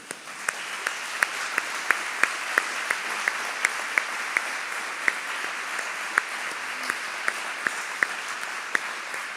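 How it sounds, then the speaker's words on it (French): Steady audience applause with sharp individual claps standing out, at moderate level, honoring radio listeners at a Radio Maria anniversary event; no talking over it. "Alors nous pouvons vous applaudir"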